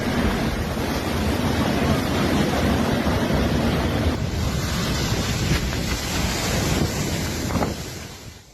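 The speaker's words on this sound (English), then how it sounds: "With fierce winds, torrential rain, and powerful waves crashing onto the coastline" Fierce storm wind roars over powerful waves crashing onto the Sicilian coastline, a dense, continuous surging rumble that stays loud throughout before easing slightly at the very end.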